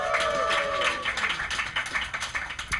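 A convention crowd at Dragon*Con cheers and claps in a dense, steady roar, with scattered whoops rising over the applause that gradually breaks into uneven individual claps.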